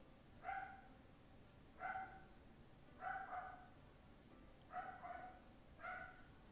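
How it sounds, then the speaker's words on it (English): A pet dog barks indoors in a steady run of five evenly spaced, clear barks with quiet room noise between them and no voices. "That's just my dog."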